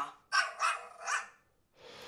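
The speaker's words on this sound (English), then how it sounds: "Here's a chihuahua." A chihuahua gives three quick, high, yappy barks in a row. They are close and sharp, with a short rustle right after them.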